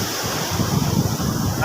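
Sea waves at Thiruvanmiyur beach in Chennai: continuous surf roar with steady wind buffeting the microphone, no voices.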